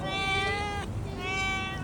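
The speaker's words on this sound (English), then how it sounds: "Recently we came across this cute cat." A cat with two different-colored eyes meows on the street, two long, loud, tonal meows in quick succession, close up with light background noise.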